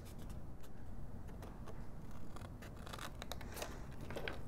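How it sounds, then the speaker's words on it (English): Scissors snip through paper at the corners of a handmade gift box, a series of close, crisp clicks and cuts over a faint low hum, with no talking. "we are going to cut one 1 inch section at each corner"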